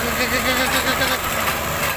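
A tractor engine runs under heavy load while a ripper tears through hardpan soil in a dry field, giving a loud, steady, close rumble with a dense broadband roar. Someone talks over it.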